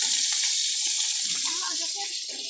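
Water runs steadily from a tap in a broad hiss, with faint background voices and clatter underneath.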